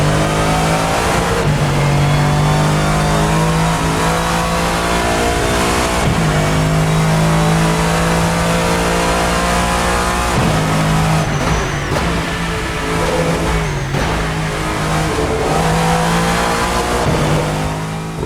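Lexus GT3 race car with a 5.4-liter V8 in the Assetto Corsa racing game at Imola, loud and close, revving hard through repeated upshifts with brief dips between gears across a steady acceleration run.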